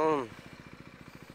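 Motorcycle engine set to supermoto mode, a quick voice at the start, then a steady pulsing engine beat, close and moderately loud, with regular rhythmic firing.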